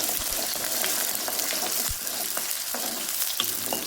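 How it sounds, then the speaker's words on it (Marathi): Chopped onion frying in hot oil, a bright crackling sizzle filling the whole stretch with scattered stirring knocks and scrapes, steady and close, no voices. "तेल गरम झाले आता कांदा टाकून घेते"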